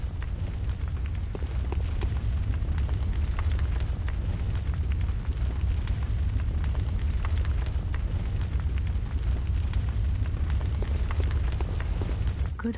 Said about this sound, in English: I come back and everything is on fire